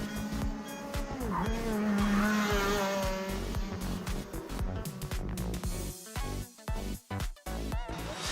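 Racing cars practice on the Coteau track, with engines revving and whining loudly nearby, gear changes rising and falling, and the roar cutting in and out toward the end.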